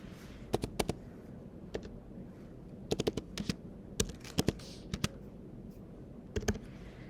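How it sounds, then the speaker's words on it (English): Sparse, crisp key clicks from a computer keyboard come in short clusters with pauses between them as an address is entered, close and clear over a quiet room hum. "type in the address here"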